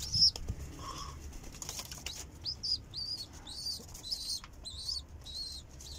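Pigeons close by flap their wings in short bursts and give soft coos, with scattered chirpy calls over a quiet indoor background.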